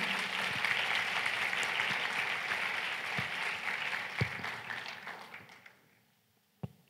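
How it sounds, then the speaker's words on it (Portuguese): Applause for teachers at an educators' gathering in Rio, broad crowd clapping steady for several seconds, then fading out to near silence with a last stray clap. "Palmas para vocês e para o Felipe também."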